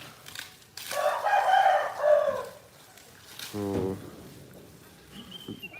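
A rooster crows in a long, drawn-out call, fairly close, followed by softer clucks and a brief second crowing phrase amid quiet room noise.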